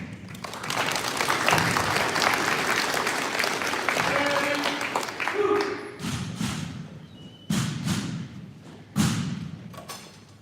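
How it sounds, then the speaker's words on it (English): Audience applause at a Vietnam War Veterans Day event in a community center in Falls Church, Virginia, loud sustained clapping that fades into scattered thumps and claps with some voices. "Please give them a big hand of applause and welcome them to the stage."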